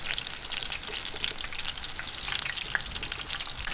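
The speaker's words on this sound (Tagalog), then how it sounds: "tapusin lang po natin ang pagpiprito" Baby shrimp okoy fritters fry in hot oil with a steady, dense crackling sizzle and occasional sharper pops, close and continuous.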